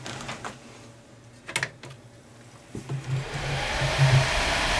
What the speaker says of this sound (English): you can probably hear it spinning up right now.